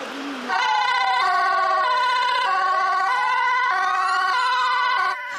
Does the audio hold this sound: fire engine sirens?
yes